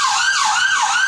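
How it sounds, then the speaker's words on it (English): An ambulance siren wails loud and close, its rising and falling tone sweeping twice in quick succession as it passes on a street. "it's an ambulance"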